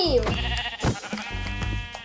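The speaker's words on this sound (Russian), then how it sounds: "Это всего лишь овца." A sheep bleats in the Minecraft video game: a few short, nasal game-sound bleats, loud and close, with some overlapping background sound.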